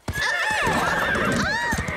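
A cartoon horse whinnies loudly and close by, a long shrill neigh rising and falling for nearly two seconds, followed by snorting breaths.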